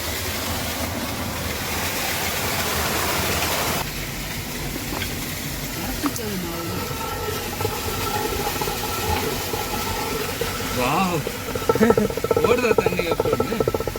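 Meltwater from the mountains in Ladakh rushes steadily through the channel that drives an old water-powered mill, a constant close hiss and roar with faint squeaks and knocks from the machine.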